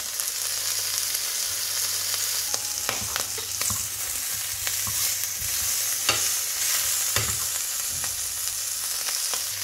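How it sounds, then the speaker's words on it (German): Shrimp sizzle lightly in hot oil with a constant crackling hiss, punctuated by occasional sharper pops and stirring clatters. "Wenn das Öl heiß ist, nehmen wir unsere Krevetten und braten sie gerade so ganz leicht und glasig anbraten."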